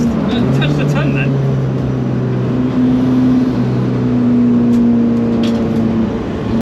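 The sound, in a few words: race cars on track, ST180-powered Mark IV Fiesta and Frankensaab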